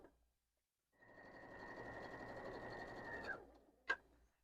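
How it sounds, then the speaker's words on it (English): A sewing machine stitches a quilt in one steady run of about two and a half seconds, then stops, and a single sharp click follows. "So as I sew"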